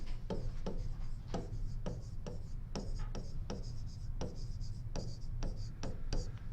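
Pen scratching on paper, brief strokes coming in an irregular rhythm, close and fairly quiet with no talking during the writing.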